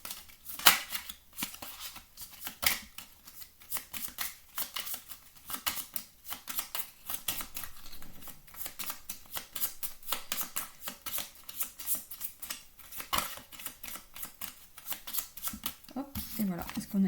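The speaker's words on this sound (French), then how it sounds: "Moi, j'ai bien envie quand même de tirer une carte en plus." Tarot cards being shuffled and drawn, a dense run of soft, rapid papery flicks and snaps that goes on throughout, with a voice talking over it.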